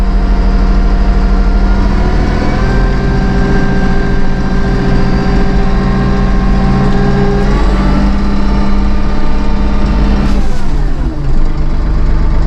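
A Massey Ferguson 1M.40 eHydro compact tractor engine throttles up under auto throttle, a loud, steady close-up drone whose pitch climbs gradually, with a brief shift near the end and no voices.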